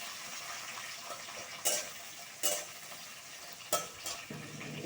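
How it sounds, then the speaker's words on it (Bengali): Bay leaves fry lightly in oil for a singhi fish dish, a faint steady sizzle under three sharp scrapes of a spatula against the pan, close by with no talk. "দিয়ে আমি এটা একটু হালকা ফ্রাই করে নেব।"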